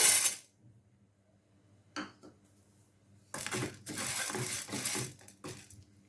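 Dry chana dal poured into a pan for roasting: a brief rattle at the start, then a louder rustling, clinking cascade of lentils hitting metal, close and alone.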